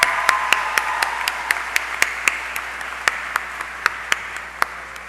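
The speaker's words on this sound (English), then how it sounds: "I want you to give yourselves a round of applause for walking across the stage today." Graduates at a commencement ceremony give a round of applause, heard as a steady wash of clapping from a large crowd, with one pair of hands standing out in sharp, evenly spaced claps near the microphone.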